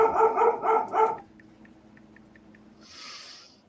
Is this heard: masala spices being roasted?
no